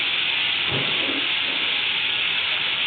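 Water poured into a hot pan of frying liver and garlic, a steady loud sizzling hiss lasting throughout with a brief surge of bubbling near the start.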